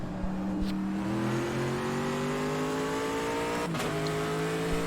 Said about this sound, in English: Those downshift sounds are pretty violent in a good way